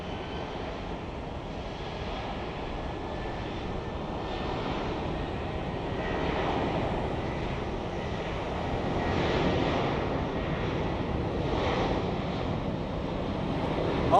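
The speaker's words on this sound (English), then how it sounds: "the Southwests are slowly departing one after the other." Southwest airliners depart one after another from Sky Harbor airport at night, a broad, distant jet-engine roar that swells and fades slowly with wind noise mixed in and no talking.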